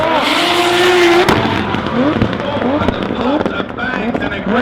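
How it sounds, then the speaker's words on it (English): Nissan Skyline drift cars race at Rockingham Speedway during the British Drift Championship, engines roaring loud and close with tyre squeal and sharp bangs as the cars slide together. "Big aggression from McCall as he chucks that skyline onto the door of Huxley Salika"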